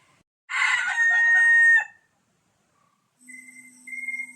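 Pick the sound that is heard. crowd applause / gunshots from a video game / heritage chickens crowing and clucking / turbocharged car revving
heritage chickens crowing and clucking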